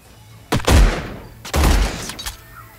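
Shotguns firing in the turn-based strategy game Age of Wonders Planetfall: two loud, close blasts about a second apart, each with a booming low tail and crackling decay.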